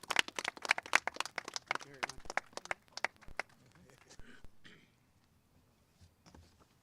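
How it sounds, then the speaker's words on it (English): Audience applause at an outdoor city welcome event for a soccer club at a memorial field, a burst of clapping that fades over several seconds to near silence. "but we can clap for him."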